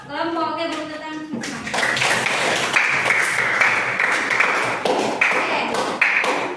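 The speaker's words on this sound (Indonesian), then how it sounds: "Oke, beri tepuk tangan." A junior high school class in Indonesia claps together after a group activity, a burst of brisk, close hand clapping following a few seconds of a teacher's voice, continuing steadily to the end.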